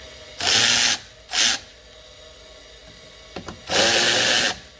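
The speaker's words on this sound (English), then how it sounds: "We're gonna go ahead and loosen up two 8mm hose clamps." A power tool whirs in three bursts of about half a second to a second each, loosening the 8mm hose clamps on the intake hose of a 2005 Ford Ranger V6. A couple of faint clicks sit between the bursts, close by, with no voices.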